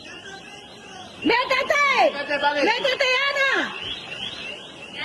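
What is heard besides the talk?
alarm beeping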